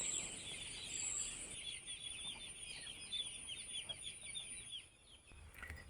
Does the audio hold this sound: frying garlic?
no